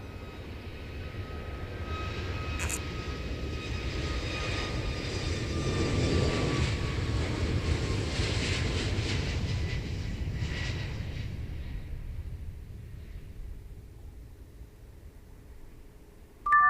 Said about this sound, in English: Peach going to Osaka, an Airbus A320.